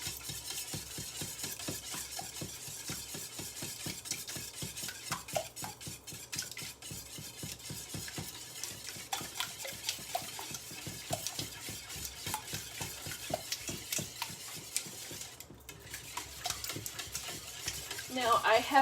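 Eggs being whisked into a quiche mixture in a bowl, a long run of fast, even whisk strokes ticking against the sides, steady and moderately quiet throughout.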